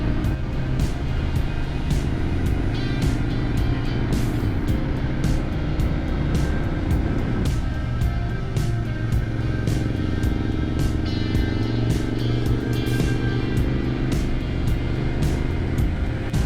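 A motorcycle climbs west up Sonora Pass with continuous engine drone and wind rush recorded on the bike, steady and loud, with periodic clicks and shifts in engine pitch over the ride.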